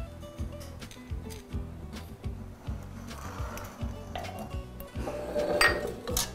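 A mojito of sugar water is mixed in a glass, giving repeated rhythmic clinks and knocks of utensil against glass, close and fairly loud, with a brief brighter rattle near the end.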